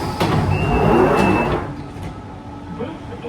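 A London Underground Central Line train with its sliding doors: a steady rumbling hum with a brief thin tone, easing off after a second and a half, near and moderately loud.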